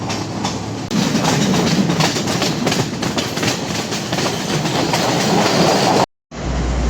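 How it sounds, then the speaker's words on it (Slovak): A tourist train runs on rails in Asia, a loud, continuous rumble with rhythmic clickety-clack of wheels over track joints. The sound drops out briefly near the end, and there is no talking. "rozhodne má svoje výhody ísť sa zviesť aj vlakom určeným pre turistov"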